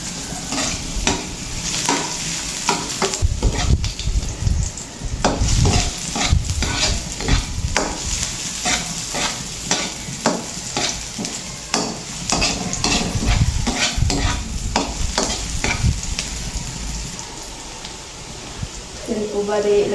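Ginger stir-fries in a pan with a continuous sizzle, while a utensil scrapes and clatters against the metal over and over, close and loud throughout, with some talk underneath.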